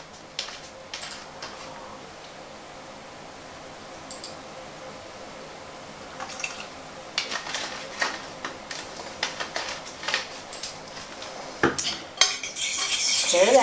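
A utensil clinks and scrapes against a bowl as vanilla is stirred into beaten eggs, light rapid taps that get busier and louder toward the end.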